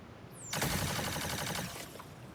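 Modded guns firing in Minecraft, a rapid burst of repeated shots after a short rising whistle, lasting just over a second and then cutting off, loud and close.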